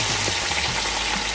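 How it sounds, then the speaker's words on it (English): Whole fish fries in hot oil with garlic for Jamaican escovitch fish, a continuous loud crackling sizzle that holds steady from start to finish with no talking. "She fry our whole fish ready today guys."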